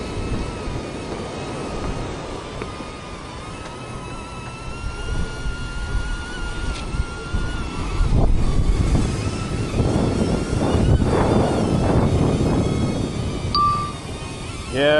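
A small DJI Neo drone buzzes overhead in strong gusting wind, its thin whine running through heavy wind rumble on the microphone, with no talking.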